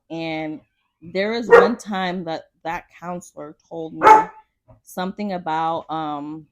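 A dog barks in a series of short, sharp bursts close by, cutting into an ongoing conversation between people talking indoors.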